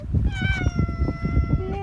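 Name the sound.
cat meowing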